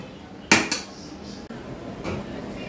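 A metal lid lands on a pot of mutton biryani rice with a sharp clatter, followed by a second lighter clink and a softer knock, then quiet kitchen room tone.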